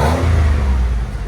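A 2003 Buick Regal with a supercharged 3.8L V6, high-flow cat and Borla Pro-XS exhaust revs briefly from a tap of the gas, a loud close deep rumble that swells and then settles, with no talking.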